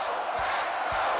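Football fans in a stadium cheer and shout in a dense, sustained roar of crowd noise, with a couple of low thumps beneath the constant din.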